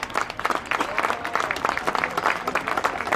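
A small group claps with quick, uneven strokes, close and fairly loud, after a mataleón chokehold demonstration.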